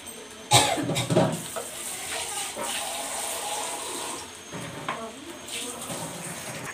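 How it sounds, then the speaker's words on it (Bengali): Spice masala fries in oil in a pan over a low gas flame for a Bengali green peas curry, a continuous soft hiss broken by a few sharp louder bursts near the start and middle. "গ্যাসটা লো ফ্লেমে রেখে মশলাটা ভাজতে দেব।"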